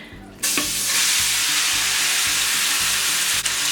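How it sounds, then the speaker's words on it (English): Beef dropped into caramelized sugar in a stew pot sets off a sudden loud sizzle that keeps frying and hissing steadily after the first splash. "Now I'm gonna add in the beef, okay? Try to stand back when you're adding it."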